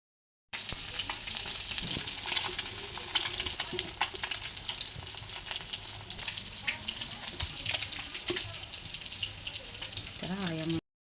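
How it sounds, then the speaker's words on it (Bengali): Fish frying in oil in a pan on a stove, a steady close sizzle with crackling and occasional stirring scrapes running throughout, ending with a short scrape. "মাছগুলো ভেজে নিয়ে নিচ্ছে।"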